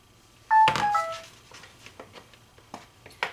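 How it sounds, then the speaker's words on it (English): A few short electronic beeps of a phone, close and clear, followed by quieter scattered clicks and soft rustling. "And my phone's beeping at me."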